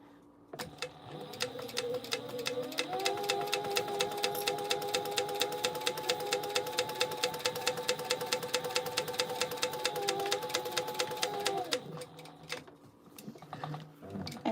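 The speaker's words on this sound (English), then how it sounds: "we're going to back stitch at the beginning and the end" A sewing machine back stitches a seam in one continuous run of about ten seconds, a steady rapid mechanical chatter that starts and stops cleanly with quiet before and after.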